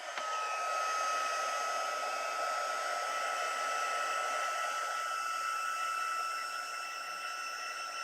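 A heat embossing tool blowing hot air during card-making, a steady loud whooshing hiss with a high motor whine that holds evenly, close up and alone.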